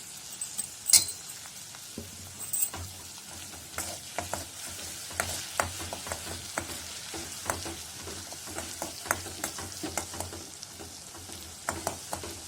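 Coarsely ground green chilli sautés in a pan for Kerala-style inji puli, with a low crackling sizzle broken by frequent scraping stirs and occasional metallic clicks close by.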